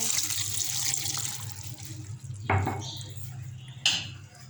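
A glass of water is poured into a karahi for Lahore-style butt karahi, making a running, splashing stream near the microphone, followed by a couple of sharp metallic clinks.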